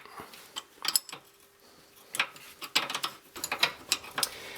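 A wrench works loose a 14mm power steering fitting on a Lotus Elan M100. There are irregular bursts of close metallic clicking and ratcheting with short pauses between them, and nobody speaks.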